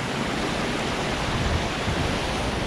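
Water pours through the overflow of an abandoned canal, a steady broadband rushing with no breaks, moderately loud and close, with no voices.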